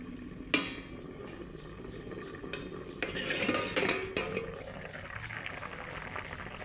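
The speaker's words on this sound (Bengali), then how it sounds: "এইবার ঢাকনাটা তুলে নিব।" A metal lid comes off a cooking pot of fish curry with banana flower: a sharp clink, another tap, then a brief metallic clatter and rattle over a quiet simmer.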